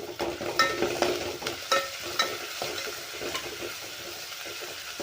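Coarsely ground ginger paste fries with onions in a pan for pav bhaji, a low steady sizzle broken by scraping strokes of a spatula stirring and tossing the mixture.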